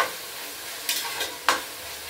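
Tomatoes sautéing in a pan for vegetable biryani, a steady soft sizzle with three brief scraping stirs of a spoon, close and alone with no voices.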